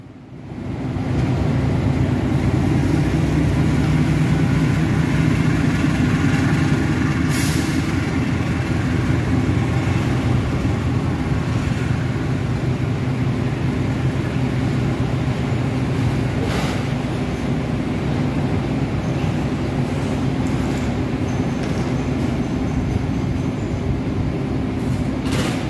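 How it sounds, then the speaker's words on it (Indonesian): The Argo Wilis passenger train pulls out from track 6 at an Indonesian station, a loud, continuous low rumble and roll of carriages that sustains for the whole stretch, with faint station noise. "dari jalur 6 adalah kereta api Argo Wilis dengan tujuan akhir stasiun Surabaya Gubeng"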